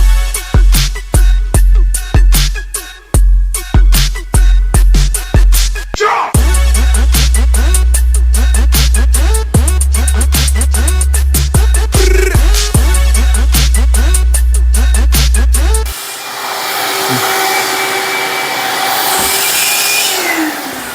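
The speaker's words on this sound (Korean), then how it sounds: "다시 한번 기계로 여기는 마무리 좀 할게요" Loud floor scrubbing machine working a cafe floor during cleaning, a heavy whirring drone with scraping and knocking, starting and stopping in bursts before running steadily, then shifting to a brighter hiss near the end.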